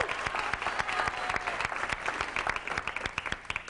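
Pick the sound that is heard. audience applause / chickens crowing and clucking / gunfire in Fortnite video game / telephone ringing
audience applause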